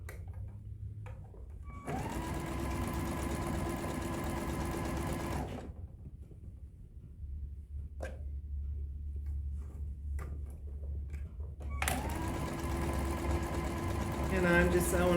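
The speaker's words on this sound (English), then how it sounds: "I'm just sewing a 1/4 inch all the way around" A sewing machine stitching a quarter-inch seam around a fabric drawstring pouch, with two long runs of steady mechanical whirring separated by a quieter pause, close and loud, and a voice speaking faintly in between.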